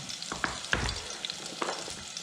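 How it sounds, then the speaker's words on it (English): Garlic and green onion with a pinch of salt sauté in a hot pan, giving a soft, steady sizzle broken by a few light scrapes and clicks of stirring. "we'll just saute this a little bit for about 30 seconds or so"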